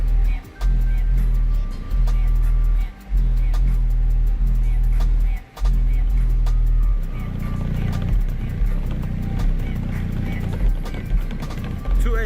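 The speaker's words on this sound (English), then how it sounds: "I'm gonna let y'all hear this bass flow, just flow, on the top of the roof of this car." Deep subwoofer bass from a car audio system playing inside a Cadillac, heavy pulsing low thumps in long sustained bursts with brief gaps, loud and close, with rattling vibration and a voice talking over it.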